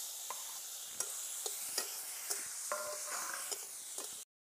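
Raw shelled tamarind is stirred into fried spices in a pan, giving a soft steady sizzle cut by regular scraping knocks of a spoon, fairly quiet and close, ending abruptly.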